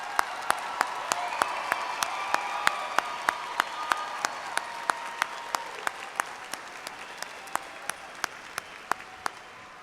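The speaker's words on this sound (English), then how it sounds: "Let's all give the graduates one more round of applause for their hard work." Audience applause for graduates at a University of Alabama in Huntsville fall 2012 commencement ceremony: a sustained, even wash of many hands clapping in a large hall, punctuated by regular sharp clicks, slowly fading over about ten seconds.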